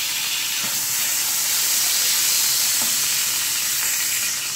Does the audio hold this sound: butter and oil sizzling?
yes